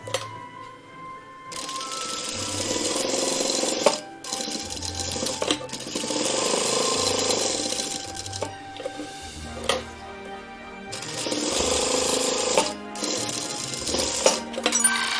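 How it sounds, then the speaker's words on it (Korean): A sewing machine triple-stitches fabric for Christmas party flags, its motor whirring in several sustained runs broken by brief stops, close and fairly loud. "겉면에서 노루발 간격으로 삼침합니다."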